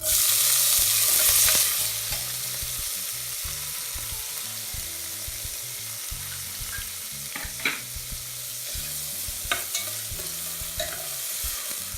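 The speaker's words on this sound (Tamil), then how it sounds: "சோம்பு பொரிய ஆரம்பிச்சிருச்சு." Fennel seeds and onions sizzle and crackle in hot oil for a mutton kurma, with steady frying noise, a louder burst at the start, and occasional stirring scrapes and pops throughout, close and without talk.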